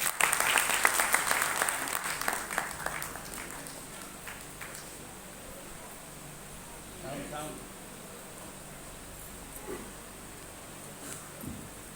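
Audience applause at a Modicare direct-selling recognition event, loud burst of clapping at the start that fades within a few seconds, leaving quieter room noise with scattered faint taps.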